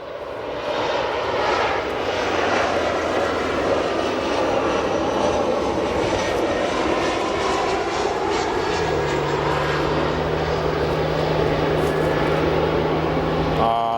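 Aircraft engines drone steadily as planes taxi at O'Hare Airport, a loud continuous whine and rumble with a low tone that shifts partway through, and faint speech is mixed in.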